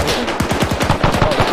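Stalin's organ rocket launchers firing in an Arma 3 World War II battle for Berlin, a loud rapid volley of sharp bursts rattling off in quick succession.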